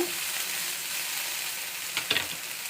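Vegetables for Karabath upma fry with rock salt in a pan, a faint steady sizzle with a couple of quick stirring scrapes near the end, close and soft.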